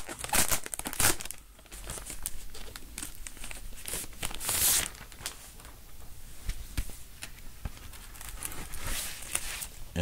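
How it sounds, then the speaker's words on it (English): A Laserdisc is drawn out of its paper and plastic sleeve, giving close, irregular crinkling and rustling with sharp crackles and brief bursts of handling noise, with no voices. "I'll take out the vinyl so you can check it out."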